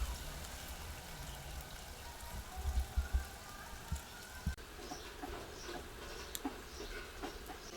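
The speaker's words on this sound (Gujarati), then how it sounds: "વરસાદ જો સવારમાં એક રેડી આવી ગઈ, અત્યારે એક રેડી આવી ગઈ અને ઝીણો ઝીણો શરૂ છે" Soft, steady patter of light rain falling outdoors, with scattered faint drips and a few low thumps, no voices.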